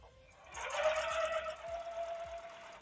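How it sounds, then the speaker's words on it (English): A sewing machine stitching, heard close up during a live stream. A steady mechanical whir with a rhythmic stitching chatter starts half a second in and runs continuously to the end. "Sewing this up here."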